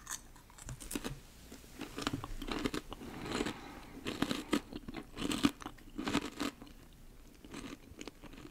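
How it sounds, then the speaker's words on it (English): A crunchy snack from India, seemingly topped with parsley, is bitten and chewed close up, with repeated sharp crunches in an uneven rhythm and no talking. "A nice crunch."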